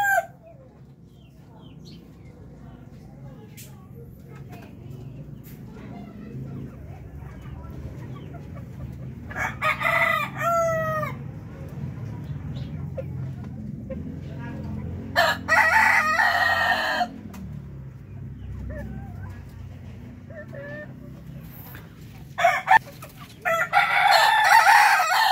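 Breeder chickens cluck softly in a farm setting, and roosters break in with loud, close crowing calls several times, spaced apart over the steady low clucking.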